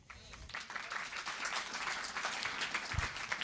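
Audience at a bookstore author event clapping after a film is shown, a fairly faint crowd applause that swells after a soft start and stays steady, with a voice briefly over it.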